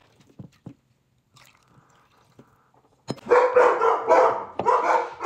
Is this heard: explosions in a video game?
no